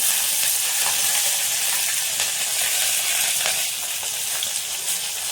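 Chana dal and mustard seeds frying in hot oil as a tempering for rava pulihora, giving a steady, dense sizzle close by that holds at an even level throughout, with no voices.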